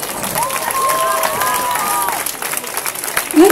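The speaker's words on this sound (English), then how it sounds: "Continuiamo, continuiamo ad applaudire." Audience applause at a dance school recital in Sicily, a crowd clapping and cheering continuously while tonal sounds, likely music or voices, ride on top near the start and trail off toward the end.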